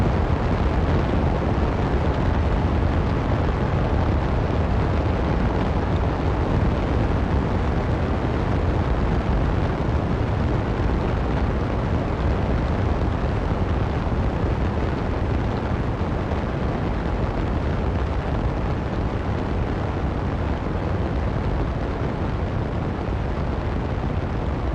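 Liquid-fuel rocket engines firing in the space game Kitten Space Agency, a dense, continuous roar that holds loud and even for the whole stretch, with no voices over it.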